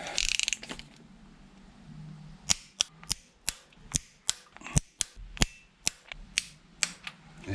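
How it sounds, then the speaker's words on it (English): Torque wrench set to 40 newton metres tightening the turbo manifold on a Toyota Starlet GT Turbo, a dozen or so sharp, close metallic clicks in a steady rhythm over quiet workshop background. "I'm going to set the torque wrench to 40 Newton meters"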